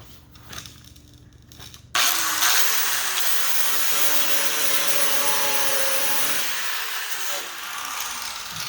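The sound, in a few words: grinding down repaired car body metal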